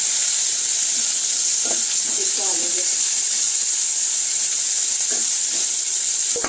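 Curry leaves and green chilies fry in hot oil with a steady, bright sizzle and hiss throughout, while a person talks briefly over it.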